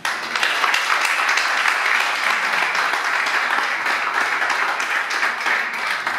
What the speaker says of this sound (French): Nous vous demandons, mesdames, messieurs, de les applaudir.